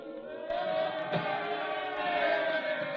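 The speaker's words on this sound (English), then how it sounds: "The crowd, they're yelling something." Crowd yelling in a street, heard as a distant, sustained roar of many voices in an old radio drama, steady and muffled with a brief sharp accent.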